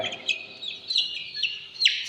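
A rooster nearby makes a series of short, clucking calls and chirps, several in quick succession with brief pauses between them.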